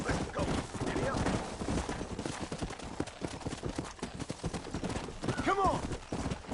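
Horse hooves clip-clop in a steady galloping rhythm in Red Dead Redemption, close and continuous, with a brief whinny near the end and a voice speaking over it.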